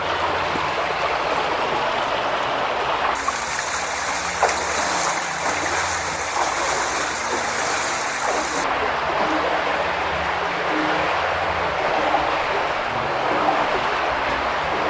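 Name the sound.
shin-deep stream water flowing under 17th century tunnel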